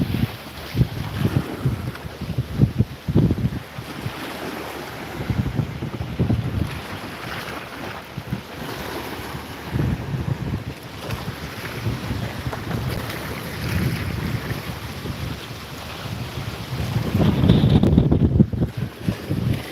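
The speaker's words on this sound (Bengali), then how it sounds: "সাগরে একদম কিনারে আছি দেখতে পাচ্ছেন সমুদ্র পারে আছে একদম" Seashore wind and waves roar at the water's edge, heavy gusty wind buffeting the microphone over a continuous wash of surf, swelling loudest near the end with no one talking.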